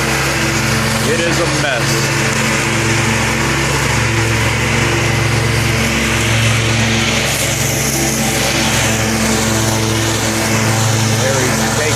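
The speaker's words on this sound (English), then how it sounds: "Wonder how much horsepower this mower has" A city crew's mower chops through seven-foot-tall grass in East Dayton, its steady high-pitched engine drone running loud and continuous throughout, with a person talking over it.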